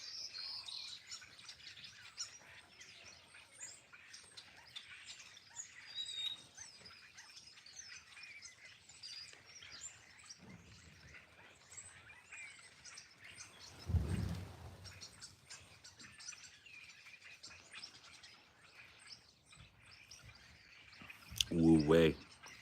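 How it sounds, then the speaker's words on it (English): A dense chorus of many birds chirps and calls outdoors in continuous overlapping twitters, with a couple of louder thumps or rustles breaking through near the middle and end. "Bird Congress is in session."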